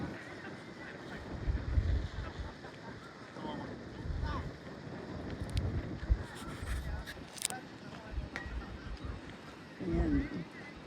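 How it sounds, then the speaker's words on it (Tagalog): Strong wind roars and buffets the microphone in gusts at Matsubara Kawa park among cherry blossoms, a low rumbling hum throughout, with a person speaking faintly under it. "Ang lakas ang hangin. Naririnig niyo ba yung hugong?"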